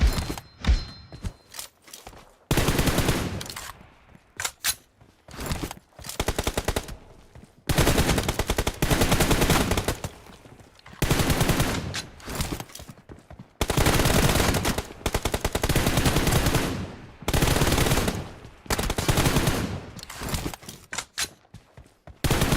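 Bursts of automatic gunfire from the battle royale game PUBG, loud and close, firing in repeated long volleys with short gaps and brief single shots between them.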